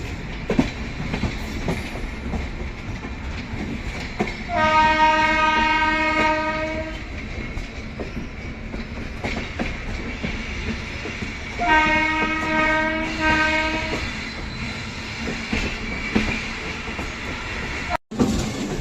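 Jhelum Express train rake standing at a railway station, with two long, loud train horn blasts sounding over a steady platform rumble.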